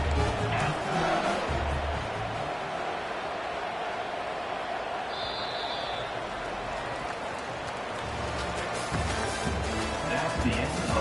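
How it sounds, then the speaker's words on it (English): A large stadium crowd at a college football game in NCAA 25 roars and yells continuously, a dense wash of voices that swells slightly toward the end. "for an entire game, they are on their feet, yelling, screaming"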